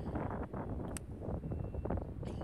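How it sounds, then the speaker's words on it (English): Wind blowing across an open golf course, a low rumbling buffeting against the microphone that rises and falls throughout, with faint rustling and no voices. "The wind's blowing"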